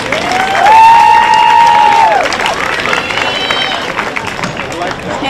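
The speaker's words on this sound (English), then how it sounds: "Let's give all of these kids a nice big round of applause." Audience applause and cheering at a junior livestock show, a loud sustained burst of clapping in an arena over crowd murmur, with a sliding whistle-like tone near the start and an announcer's voice present.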